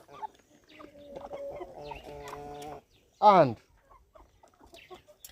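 Poultry chickens on a farm clucking close by: a run of drawn-out clucks, then a sharp loud squawk, then quieter scattered clucks. A voice briefly speaks.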